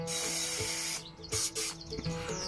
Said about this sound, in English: I'm just going to use some of this underbody sealant and just spray those